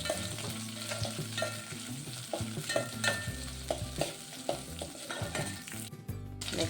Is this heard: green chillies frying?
yes